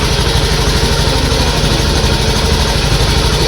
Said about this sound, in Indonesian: Motor udah hidup, dan untuk hidupnya ini normal